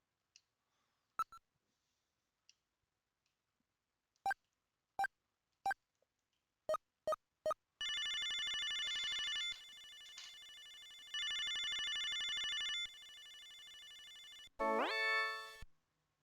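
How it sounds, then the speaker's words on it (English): Video phone in the video game Snatcher: a series of sharp, evenly spaced dialing beeps, then a loud sustained electronic ringing tone in two bursts, ending in a quick rising electronic sweep. "Video phone."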